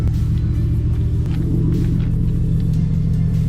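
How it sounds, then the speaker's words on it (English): A car engine with a Tomei Expreme Ti titanium exhaust revs up from a deep rumbling idle, a steady low growl with a short rise and fall in the middle, close and without talk. "I'm gonna give it a couple revs."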